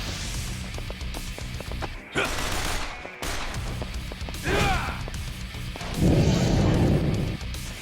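Pistol gunfire from Kiryu's Essence of Pistol in Like a Dragon: Infinite Wealth, several bursts of sharp shots and impacts over a busy game soundtrack, with a heavy crashing hit near the end.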